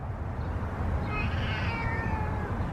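A cat gives a long, drawn-out meow close by, over a low steady background rumble.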